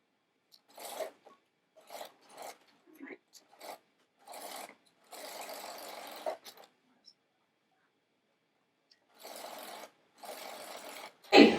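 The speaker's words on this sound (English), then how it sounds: "I'm going to serge both of the short ends." A serger overlocks the short ends of a fabric band in short bursts of fast mechanical whirring, separated by quiet pauses, with a couple of longer runs and no talk.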